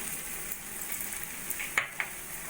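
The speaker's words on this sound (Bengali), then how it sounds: "গ্যাসে ফুল ফ্লেম দিয়ে ওলের ডাঁটাটাকে আমি একদম শুকনো শুকনো করে নিয়েছি।" Arum stems dry-frying in a pan on a gas flame at full heat, a faint steady sizzle with a couple of brief clinks from stirring toward the end, heard alone without speech.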